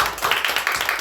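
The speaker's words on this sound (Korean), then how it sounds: "너무나 우리 박수 한번 쳐줍시다." A church congregation at an Easter service claps together in a quick, steady burst of applause, close and fairly loud, lasting about a second.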